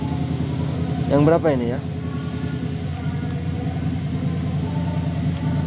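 A small borrowed generator set hums steadily with a low, even engine drone throughout. Someone speaks briefly over it early on.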